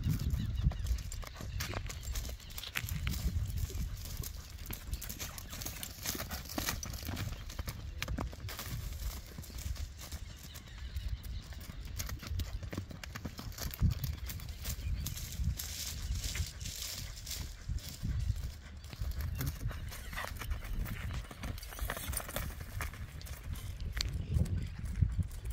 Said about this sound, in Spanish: Lindo se mueve el caballo.